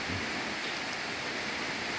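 Steady rain falls outdoors in a hilly, cave-side setting during a wet season, an even, dense hiss of drops with no breaks and no voices.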